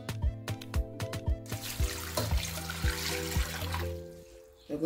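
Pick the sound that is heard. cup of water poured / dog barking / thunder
cup of water poured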